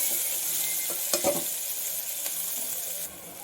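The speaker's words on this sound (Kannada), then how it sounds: "ಒಂದಷ್ಟು ಈರುಳ್ಳಿ, ಎರಡು ನಿಮಿಷ ಫ್ರೈ ಮಾಡಿ." Onions sizzle in a pan, a steady close hiss and crackle of frying with a few stirring scrapes, alone with no talk.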